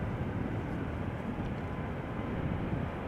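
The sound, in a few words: KLM Boeing 777-300ER airliner at Amsterdam Schiphol Airport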